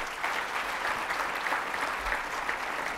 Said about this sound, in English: Please, a round of applause for the OCS team